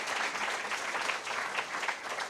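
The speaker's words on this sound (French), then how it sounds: "qu'on applaudisse Madame la Présidente et ses services" An audience in a hall applauds together, a dense, steady clapping that holds at an even level throughout.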